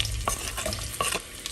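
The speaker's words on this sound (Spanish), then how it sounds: "Vamos a dejar que se sofría." Half an onion frying in a saucepan for a Mexican home-cooked dish, a steady close sizzle with a few soft stirring scrapes over it.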